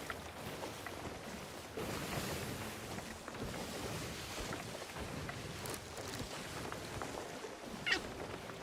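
A cat meows with a short squeak aboard a ship in the pirate video game Sea of Thieves, faint and brief over steady ocean wind and wave ambience.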